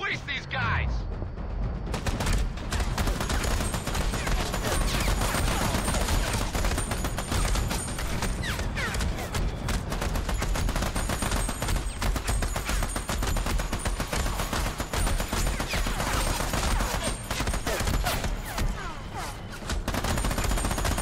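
Sustained heavy gunfire fills a shootout in the video game Army of Two, with rapid overlapping bursts and volleys running loud and dense almost throughout, mixed with game audio and voices talking over it.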